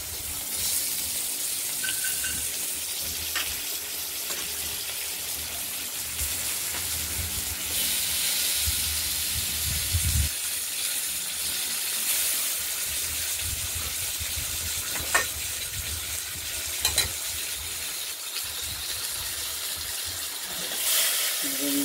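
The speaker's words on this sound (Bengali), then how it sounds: "এরপর এই তেলে আলুগুলো একটু লাল করে" Potatoes browning in hot oil in a pan while a katla fish curry is cooked, giving a steady broad hiss and sizzle throughout, with a few small pops and clatters over the frying.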